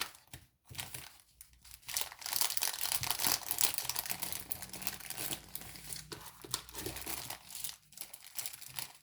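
Paper wrapping crinkles and rustles continuously at close range, with bursts of louder crumpling and brief pauses between handlings.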